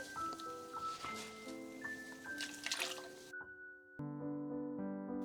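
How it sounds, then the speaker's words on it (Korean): Salt brine is poured onto ponytail radishes (chonggak-mu) for kimchi, making a soft splashing trickle under steady background music. "이 소금물을 총각무에 넣어 볼게요."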